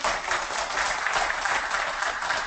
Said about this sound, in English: Give yourselves a huge round of applause, ladies and gentlemen.